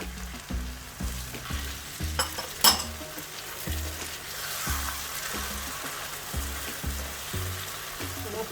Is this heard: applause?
no